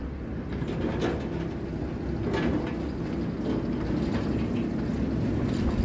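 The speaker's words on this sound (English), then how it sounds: "now the weed train's heading off to Bewdley to spray the line side" A weed-spraying train on the Severn Valley Railway rumbles steadily with a low, continuous engine drone and faint clanks, the sound holding even and fairly close throughout.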